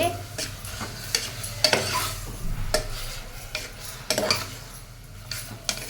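Keema is stirred and mixed in a sizzling pan, a spoon scraping and tapping against the metal in uneven strokes over a low continuous hum.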